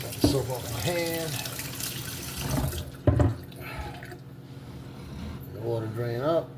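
Water runs from a kitchen faucet while hands are rinsed of soap, a steady splashing stream under a voice talking throughout, with a brief louder splash partway through.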